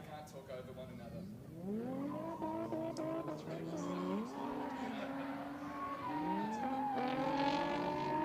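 Two drift cars slide off the track at a drift series race, tyres squealing in long rising and falling wails over engine revs, heard at a distance with a commentator talking over them.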